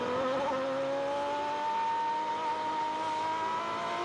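A Superleague Formula race car at Estoril holds a steady, rising engine whine on its in-lap, heard continuously and at moderate distance with no talk over it.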